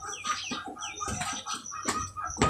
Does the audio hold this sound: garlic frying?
no